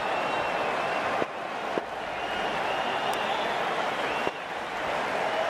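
A crowd roars and cheers in the cricket video game Cricket 19, a sustained, even wash of stadium noise that holds steady throughout, broken by a few short thuds.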